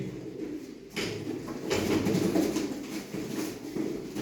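Pigeons coo softly in a loft, Antika Gök tumbler breed among them, a low murmuring cooing that swells after a brief lull and carries on steadily at modest, fairly near distance.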